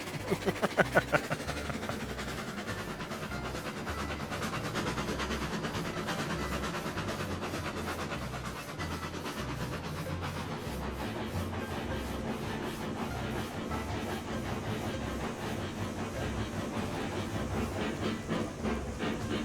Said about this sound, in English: I see a choo-choo train.